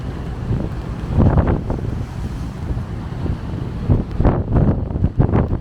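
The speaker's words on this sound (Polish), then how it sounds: "I wiatr się wzmaga strasznie." Strong wind roars and gusts across the microphone in surging bursts, loud and close, with waves churning underneath, at a ferry port in Gdańsk.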